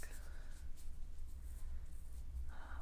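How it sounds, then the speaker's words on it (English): A tarot card deck being shuffled by hand in a quiet room, soft papery riffling and sliding strokes close up over a low steady background. "And we're going to shuffle."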